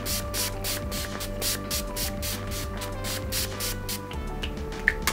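Repeated short bursts of rosewater face mist spray hiss over a steady background hum, a quick rhythmic series of puffs close to the microphone.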